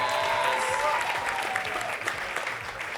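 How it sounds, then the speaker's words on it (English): An audience claps steadily for a few seconds, the applause thinning out toward the end, with a voice briefly audible over it. "Give her a clap, though."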